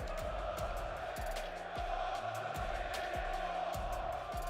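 Crowd at a Call of Duty League esports event in Birmingham cheering and roaring continuously, a dense wash of voices with rhythmic thumping beneath.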